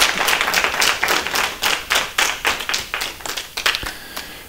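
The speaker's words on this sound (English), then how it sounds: "a big round of applause here" A small audience claps for Mrs. Reilly at a health forum, a modest group applause with distinct individual hand claps in a loose rhythm, close and fairly loud, tapering off toward the end.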